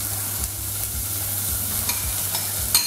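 A breadfruit migan mixture is stirred in a pot, with a low sizzling hiss under it and a scattering of soft scraping and knocking strokes from the spoon against the pot.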